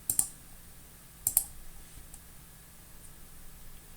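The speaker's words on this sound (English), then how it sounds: "We can do it by using keyboard shortcuts, Ctrl-Alt-T" The Ctrl-Alt-T shortcut typed on a computer keyboard on Linux: two quick clusters of close, crisp key clicks separated by about a second, then near silence.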